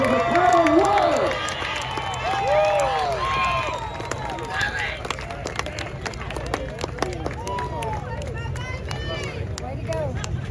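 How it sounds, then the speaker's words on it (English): A crowd at the Southern Street Stock Nationals race claps and cheers for young driver Talan Willis, a busy patter of applause running beneath an announcer's voice throughout. "Give a round of applause for the Talan Willis!"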